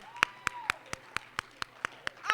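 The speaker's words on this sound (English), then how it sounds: "Give them a round of applause again." An audience claps in sharp, evenly spaced bursts at a rally, about ten distinct claps in slow rhythm, fairly close and moderately loud.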